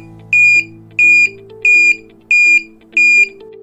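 A motorcycle flasher relay under a bench circuit test beeps loudly in five evenly spaced pulses, each a steady high electronic tone of about a quarter second, with a faint low hum beneath.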